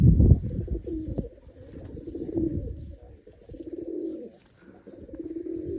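Pigeons coo close by in a loft kept by a pigeon breeder, soft low rolling calls repeating in several bursts, with a sharper flutter or knock at the start and no voices.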